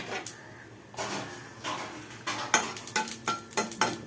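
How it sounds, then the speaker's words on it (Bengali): Whole cumin and bay leaf tempering in a little hot oil in a pan, heard as a quiet low sizzle with clinks and scrapes of a utensil against cookware, irregular taps growing busier toward the end. "তার মধ্যে আমি তেজপাতা দিয়ে দিলাম, একটু জিরে, গোটা জিরে দিলাম ফোড়ন"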